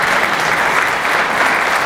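A crowd at an awards ceremony for regional National 3 football trophies claps loudly and continuously, a dense, even wash of applause with no pauses and no talking.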